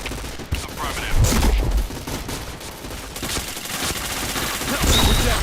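Rapid bursts of gunfire from a shooter video game, dense overlapping shots and impacts filling the mix with a louder stretch midway, game voice lines faintly underneath.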